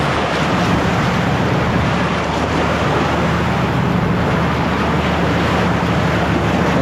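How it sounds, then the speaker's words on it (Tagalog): Large sea waves wash against a wooden fishing boat at sea, making a loud, continuous surging rush mixed with wind noise and no voices. "Bumabao na ho yung unahan ng ating bangka pag may malaking alon."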